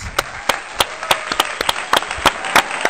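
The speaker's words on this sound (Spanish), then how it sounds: "con un fuerte aplauso recibimos en esta tarde a nuestra hermana evangelista Rocío Ramírez." Scattered hand claps from a small group welcoming an evangelist at a church gathering, sharp and uneven, about a dozen quick claps in a few seconds.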